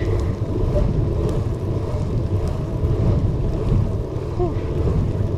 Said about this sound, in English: There's a little bit of wind though, so that's nice.